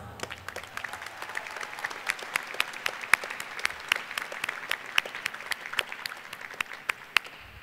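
A graduation-ceremony audience gives a round of applause, many hands clapping in a steady, sustained patter with sharper individual claps standing out, continuing evenly for several seconds with no talk over it.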